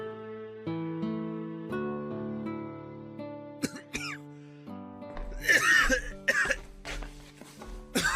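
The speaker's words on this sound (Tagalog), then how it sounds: "Mukhang masama na yung ubo mo ah." A few sharp coughing bursts break out partway through, close and fairly loud, after a stretch of music with sustained tones.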